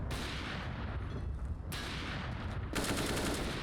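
Rapid gunfire in the video game CS:GO, dense bursts of crackling shots in three sustained volleys, loud and close with no talk.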